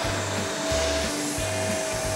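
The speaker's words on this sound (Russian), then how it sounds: "Тоже диван надо пропылесосить." Construction vacuum cleaner running on a sofa, a steady loud motor roar with rhythmic dips in pitch as the nozzle is pushed back and forth over the upholstery.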